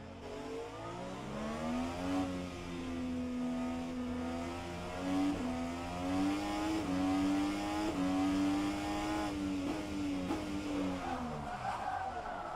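A race car engine in rFactor 2 at Circuit Zolder revs and holds a buzzing whine that rises and falls through gear changes, moderately loud and continuous, with no talking.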